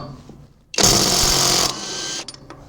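An Alloyman 20V 1/2-inch cordless impact wrench loosening nuts fires a single loud, close, buzzing hammering burst lasting under a second, with quiet shop noise before and after.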